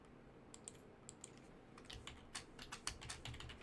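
Keys tap on a computer keyboard, first as a few sparse clicks and then as a quicker run of typing, quiet and close with no voices.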